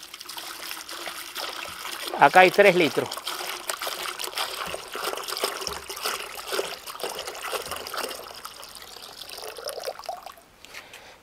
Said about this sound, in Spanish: Este bidón tiene agua destilada pura. La voy a echar acá en el balde donde vamos a hacer la mezcla.